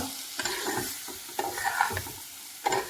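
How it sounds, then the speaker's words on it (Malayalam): Radish tossed with salt and turmeric in a hot pan: a spoon scrapes and stirs in repeated strokes over a steady low sizzle, close and clear with no voices. "ഇനി ഇത് ഈ ഉപ്പും മഞ്ഞൾപ്പൊടിയും നല്ല പോലെ ഒന്ന് ഇളക്കി കൊടുക്കാം"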